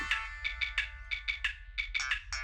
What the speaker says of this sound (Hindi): भाईजान, सूर्या का फोन है।